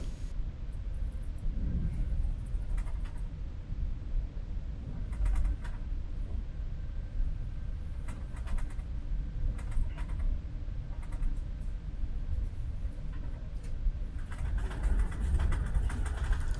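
Amtrak Acela high-speed train cabin at around 135 mph, a constant low rumble with intermittent clicks and rattles of the shaking carriage, steady throughout.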